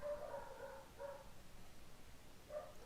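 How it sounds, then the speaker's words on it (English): A seven-month-old large dog barks in short bursts in the evening, heard at a moderate distance, with a cluster of yelps at the start, another around one second in, and a final bark near the end. "The dog that you're listening to right now"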